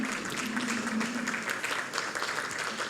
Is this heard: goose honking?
no